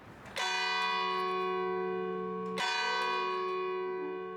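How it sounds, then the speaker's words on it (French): Church bells of the Abbey of Saint-Victor in Marseille ring out loud and full, with two strong strikes about two seconds apart and long, shimmering tones that hang and overlap between them. "Au sommet de Saint-Victor, les cloches rythment la vie de la cité phocéenne."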